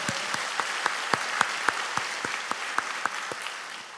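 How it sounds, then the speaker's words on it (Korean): A congregation applauds at a Friday church prayer meeting, a steady round of clapping with individual claps distinctly audible in a loose rhythm, moderately close and continuing throughout. "이건 우리 하나님께 박수로 영광 올려드립시다"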